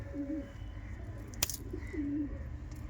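A Giribaj pigeon gives two soft, low cooing calls in a quiet setting, with a brief sharp click between them.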